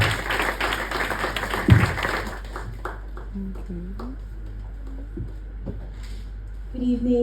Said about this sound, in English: Please just give her a round of applause